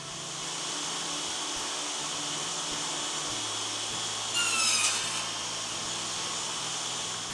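Saw cutting wooden tenons with a Grizzly tenon jig, a steady loud whine and hiss that runs throughout, with a brief harsher burst near the end.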